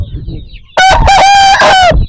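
A loud Aseel rooster crows once, close by, in one long drawn-out call that rises and then trails off.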